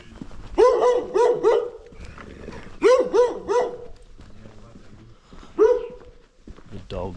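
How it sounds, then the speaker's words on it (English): Dogs on a street in Gannat, France bark at a passerby, several sharp nearby barks in quick bursts of two or three with pauses between, heard close and loud over a quiet street background. "The dogs are angry out here. I've not walked past a single dog that hasn't barked at me."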